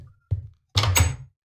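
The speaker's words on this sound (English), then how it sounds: "I just gotta stop opening doors." A door opening in an Unreal community map: a soft thunk followed by a louder, heavier creaking clunk lasting about half a second, close and isolated.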